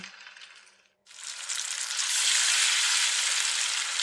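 Garlic and onion dropped into hot oil in a pan: a quiet moment, then a sudden loud sizzle that swells into steady, close frying and holds without a break.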